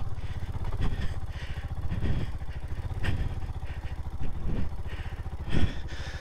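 Royal Enfield Himalayan single-cylinder motorcycle on a muddy clay trail in France, its engine thumping in a steady low pulse at light throttle, with periodic bumps and clatter from the rough ground and no speech.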